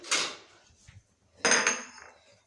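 A bowl handled in a kitchen while making a bread omelette: two separate bursts of clinking, knocking dish and utensil contact, close and fairly loud, with a quiet gap between them and no talking.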